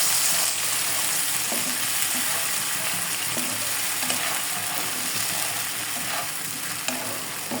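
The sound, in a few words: onion garlic paste being stirred and fried in a pan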